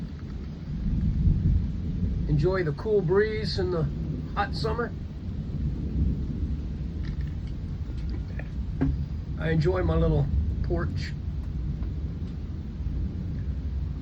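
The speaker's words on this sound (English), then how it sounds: "I love these thunder clappers." Distant thunder from a summer storm in South Carolina rolls as a low, continuous rumble under steady background noise, heard from a porch while someone speaks over it.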